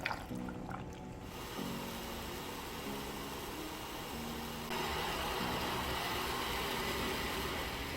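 A kitchen blender whirs steadily while blending juice ingredients with ice and water, a continuous loud grinding roar with a slight shift in pitch partway through, no talking.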